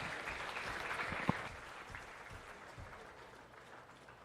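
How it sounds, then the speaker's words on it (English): Crowd applause at a 4-H starter calf show in Adams County, a scattered, modest clapping from spectators that tapers off gradually, with one sharp nearby clap standing out. "Give them one great big round of applause."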